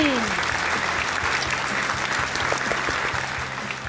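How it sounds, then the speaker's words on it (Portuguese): A studio audience applauds steadily on a cooking show about salt cod, a dense, even wash of clapping that holds for the full stretch, with low rhythmic thumps beneath and a faint background voice. "Palmas pra gente!"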